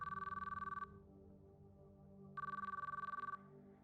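Phone ringing in the Chaos Child video game: two bursts of a rapid electronic trilling ring, each under a second long and separated by a pause, over a faint, quiet background of soft music.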